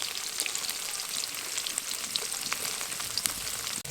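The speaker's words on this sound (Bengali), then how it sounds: "পনিরগুলো উল্টো পাল্টে একদম লাল লাল করে চারিদিকটা ভেজে নেব" Paneer pieces sizzle steadily in hot oil in a kadai while being turned over, a dense, close crackle with occasional sharper pops and a short clunk near the end.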